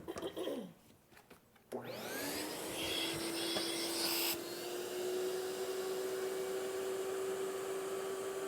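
A vacuum pump drawing down a vacuum bag over a wood glue-up starts after some rustling, then settles into a loud steady motor drone with a rising tonal whine that holds for several seconds.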